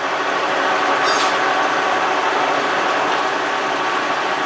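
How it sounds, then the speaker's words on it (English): A Kearney & Trecker 2CH milling machine runs with its spindle turning slowly at about 35 RPM, giving a steady, even mechanical hum with a faint tone and no spoken voices. "let's see if the spindle's gonna turn"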